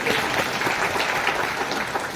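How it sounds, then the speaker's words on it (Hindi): A gathering at a Brahma Kumaris retreat centre claps for a mother, a dense, even patter of applause that continues steadily throughout. "भैया माता जी के लिए तालियां होनी चाहिए"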